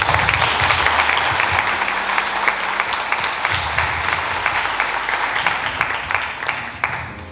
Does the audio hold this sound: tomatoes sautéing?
no